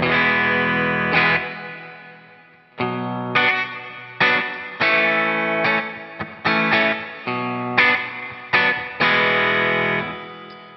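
Electric guitar chords strummed in separate bursts through a HeadRush Gigboard's big theater reverb, each ringing out with a large, spacious reverb tail that lingers and fades between strikes.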